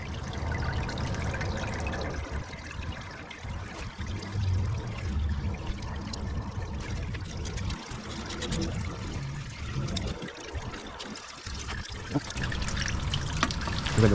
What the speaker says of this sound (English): starting to drain some more. So we'll let that drain out before we remove the rest.